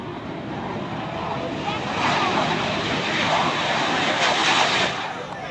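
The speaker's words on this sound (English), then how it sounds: "light full afterburner and accelerate down the runway" A Lincoln Navigator jet car's turbojet roars at full afterburner as it accelerates down an airport runway at an airshow, a loud sustained broadband blast that swells and holds throughout.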